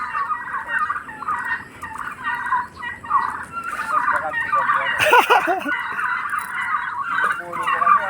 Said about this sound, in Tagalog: Lakas pumalo lang pabo.